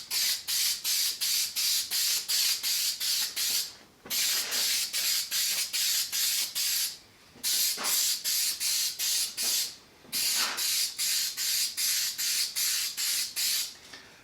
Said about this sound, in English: So just going to spray some on here.